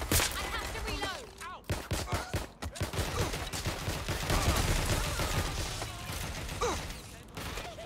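Rapid gunfire bursts and mechanical clicks in the video game Watch Dogs: Legion, loud and close, coming in dense volleys with brief gaps and some faint voice under the shooting.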